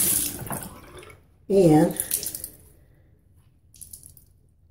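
Tap water runs into a sink as a shaving brush is rinsed, a short burst of splashing flow after a quieter trickle, with a brief spoken word near the start and faint handling sounds afterward.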